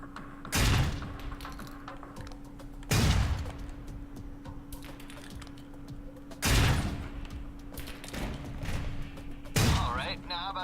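Concussion rounds exploding in the video game Alpha Protocol, four heavy separate booms spaced a few seconds apart over a constant low hum.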